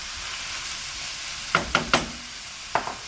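Meat sizzling as it goes back into a pot of Southern-style chili, a soft low frying hiss broken by a few sharp stirring clatters.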